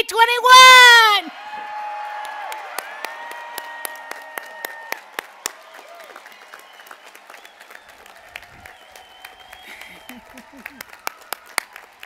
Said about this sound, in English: one last long, loud, boisterous cheer for the class of